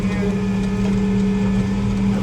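A farm tractor pulling a disc harrow turns around in a field, its engine holding a loud, steady low drone with a firm idle hum throughout.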